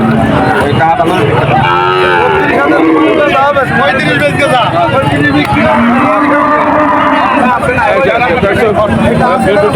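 At the Shahpur cattle market, a pregnant cow gives several long, resonant moos near at hand. Someone talks over and between the calls, and crowd babble fills the background.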